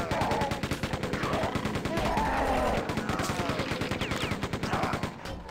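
Rapid automatic gunfire from a PC video game, a dense continuous stream of loud shots with bursts repeating throughout, nearby and dominating the mix.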